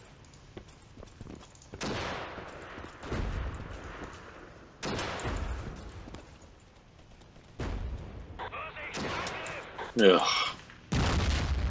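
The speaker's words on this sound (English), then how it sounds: "We're just gonna have to resort to throwing grenades for a hot minute because I'm not losing." Grenade blasts in the Battlefield video game, a few heavy booms that come in bursts with rumbling tails in between. A player grunts once.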